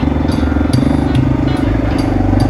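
Motorcycle ride in second gear at Sugar Pine, the engine droning loud and steady at close range with wind noise over it.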